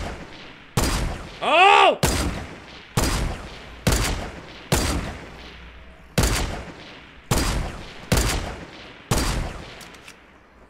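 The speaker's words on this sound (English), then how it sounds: "Guys aggressively shooting" Repeated loud gunshots from a Fortnite Battle Royale match ring out in a steady rhythm roughly once a second, with a brief rising whistle-like effect between the first blasts and short startled exclamations from a player.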